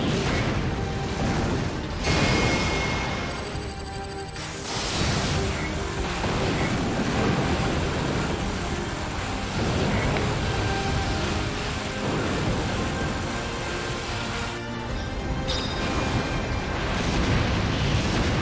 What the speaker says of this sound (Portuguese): Ó, consegui dar o parry na explosão.